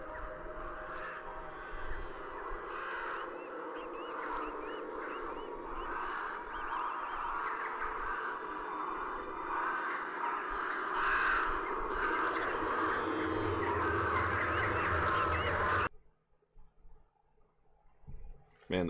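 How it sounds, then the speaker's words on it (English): Crows cawing loudly and repeatedly, several birds calling over one another in a sustained, agitated chorus before cutting off abruptly near the end. "Man, the birds are throwing a fit today."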